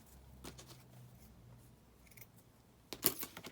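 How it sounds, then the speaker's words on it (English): Scissors trim a scruffy end off a piece of sari silk fabric while decorating a journal cover. A few quiet, crisp snips sound in a hushed room, and a sharper, louder cut comes near the end. "So I'm just going to cut this kind of scruffy end off."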